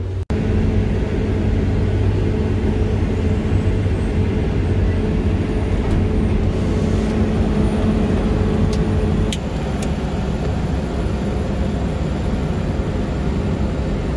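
A log truck hauling a heavy load of black oak rumbles steadily with a loud, continuous low engine and road drone, close and unbroken, easing slightly near the end.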